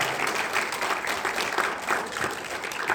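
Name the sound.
audience applause after lecture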